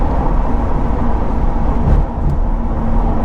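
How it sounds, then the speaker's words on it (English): Corvette C8 in track transmission mode, a loud, steady low engine drone from inside the cabin with a brief shift around midway and no talk. "Or obviously if I want to downshift, just give it a little bit more gas. It'll jump down 1 gear."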